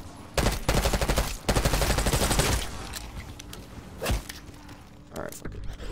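Light machine gun fire in Black Ops 6 Zombies on the Liberty Falls map, loud close bursts of rapid shots separated by short pauses, with voices and game sounds between them.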